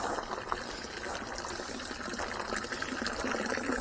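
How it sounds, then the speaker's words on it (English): Water trickles and splashes steadily from a garden fountain nearby, a continuous bright bubbling with no voices. "The lovely sound of water here."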